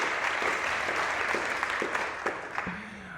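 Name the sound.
audience applause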